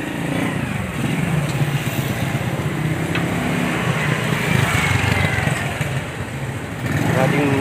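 Motorcycles passing along a village main road, their small engines droning continuously and fairly near amid general traffic noise, with a slight surge toward the end.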